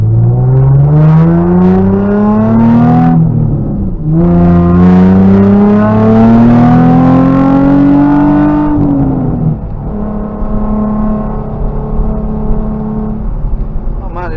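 A modified Nissan 350Z with a naturally aspirated engine accelerates hard, its loud rising engine note climbing through two gear pulls before settling into a steadier drone.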